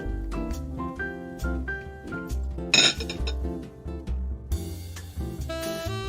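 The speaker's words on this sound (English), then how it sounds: "I will be putting a tablespoon of coffee into a bowl" A spoon clinking against a bowl while coffee is scooped into it, with ringing metallic taps and scraping knocks in an irregular run, close and clear.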